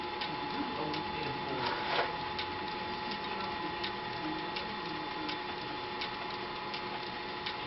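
A metal lathe cuts material with chips coming off steadily, a continuous mechanical whir with regular light ticking throughout.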